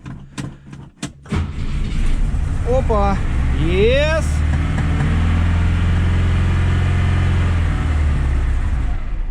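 An old ZAZ-968 Zaporozhets engine cranks with stuttering bursts, then catches and settles into a loud, steady rough idle that runs to the end, with a man's short exclamations near the start.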